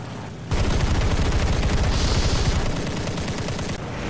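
Rapid cannon and machine-gun fire from an A7M2 fighter aircraft in the War Thunder video game, a dense, loud, continuous burst lasting a few seconds.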